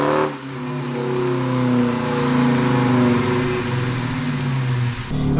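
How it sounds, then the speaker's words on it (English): A 2014 Dodge Challenger's Hemi V8 exhaust revs up and holds in a deep, throaty burbling roar, close and steady for several seconds before cutting off abruptly. "you definitely do have that nice exhaust note that I'm hearing right now. I mean, these Hemis definitely do sound great"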